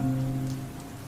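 Rain falls as a soft, steady patter under a low humming drone, continuous and fairly quiet throughout.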